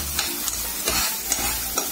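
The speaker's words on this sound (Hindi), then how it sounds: "थोड़ा सा सबको मिला के फ्राई कर लूंगी अभी" Chopped tomatoes fry in a pan with a steady sizzle, while a spoon stirs through them in regular scraping strokes close by, with no voices.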